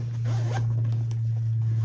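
A zipper on a messenger sling bag pocket is pulled in one quick, close, raspy stroke, loud and alone over a low steady hum.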